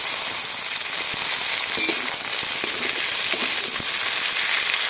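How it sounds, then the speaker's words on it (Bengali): Chopped tomato hitting a pan of lightly fried chopped onion, giving a steady close sizzle and hiss with small scattered crackles and stirring clicks throughout, no voices. "এবার টমেটো কুচি দিয়ে দিচ্ছি।"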